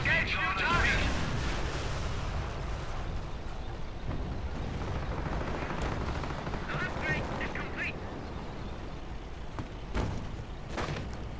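Artillery shells and gunfire in a WWII-style strategy game battle, with a Hummel firing rounds, AT guns and a 17-pounder: dense, loud booms and crackling shots in a continuous barrage, with sharp impacts punctuating the din.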